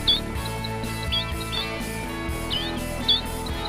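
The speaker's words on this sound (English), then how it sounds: "The birds are chirping." Small birds chirp in short, bright tweets scattered over several seconds at Big Bend Wildlife Sanctuary, moderately near, over a soft continuous background hum with no talking.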